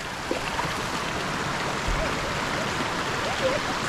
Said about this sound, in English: We are literally walking over a waterfall.